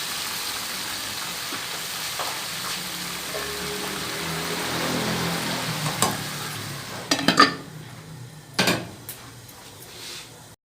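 Tomatoes, lemon and green chillies fry in a pot for Sindhi biryani, giving a steady close sizzling hiss with stirring scrapes and a few sharp utensil clanks toward the end, with no talking.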